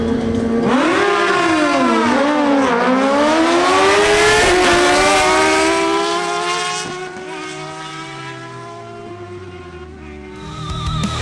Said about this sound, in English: Next up, Andres Camargo on his Suzuki GSX-R1000 races Harold Rodolo on his Kawasaki ZH2.